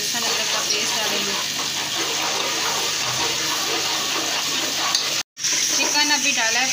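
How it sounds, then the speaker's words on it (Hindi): Chicken pieces frying with browned onions in hot oil, a steady loud sizzle with stirring clatter throughout and a brief break near the end. "चिकन अभी डाला है प्याज़ों के साथ, अच्छे से फ्राई हो जाए।"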